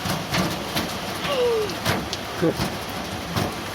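Steady hiss of a heavy evening downpour in the city of Yeysk, with a few faint knocks and a brief voice in the background.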